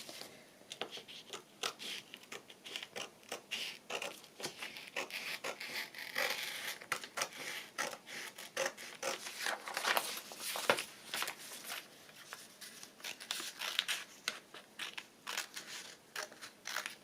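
Scissors trimming a paper junk mail envelope, a steady run of close, quiet snips and crisp paper rustles for the whole stretch, with no talking.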